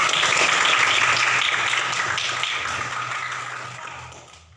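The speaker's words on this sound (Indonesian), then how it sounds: "tepuk tangan semuanya" A classroom of students claps together in a dense burst of applause that holds steady, then gradually thins and fades out over several seconds.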